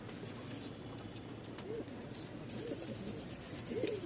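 Rajshahi Giribaz pigeons kept in a breeding loft coo in soft rolling calls, a few distinct coos rising near the end over a quiet background hum.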